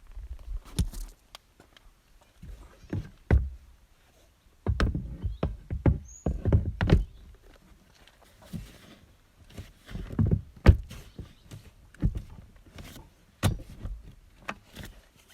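Shad motorcycle side cases on a Lifan KPT200 are pressed shut, producing a series of irregular hard plastic clunks and latch clicks separated by short quiet gaps, close by, with no speech.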